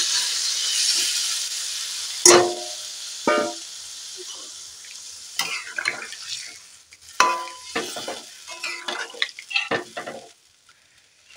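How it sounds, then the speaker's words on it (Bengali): Broth is poured into a pan of fried gandal leaves, raising a sharp burst of sizzling and hissing that breaks into intermittent spits and crackles, then fades to near quiet. "এবার আমি ঝোলটাকে ঢেলে দেবো।"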